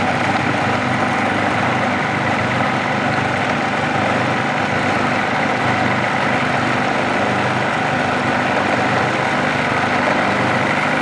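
KitchenAid stand mixer whipping black garlic aioli made with peanut oil, running at higher speed with a steady continuous motor whir and churning hum, loud and close, with no voices.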